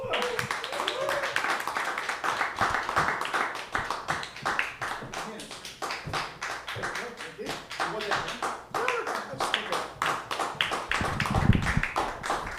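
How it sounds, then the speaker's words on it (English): An audience at a live storytelling open mic night keeps applauding as the next performer comes up to the stage, a dense, steady crackle of many hands that carries on throughout, with some voices mixed in. "Thank you for being polite enough to keep clapping till I actually get up my ass up here"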